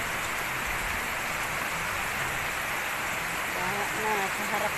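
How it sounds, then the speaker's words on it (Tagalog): Heavy rain pours steadily during a typhoon, a dense unbroken hiss with faint voices entering near the end. "Bumabagyo"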